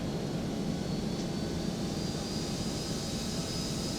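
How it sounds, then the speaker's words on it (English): Simulated airliner jet engines in the X-Plane 11 flight simulator, spooling up for taxi, give a steady, broad rumbling whine with a faint high tone, continuous and even throughout with no talk. "Release the parking brake. Give me a bit of revs."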